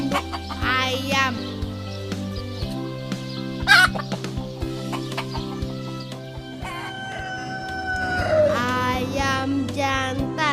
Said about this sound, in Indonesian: Induk ayam.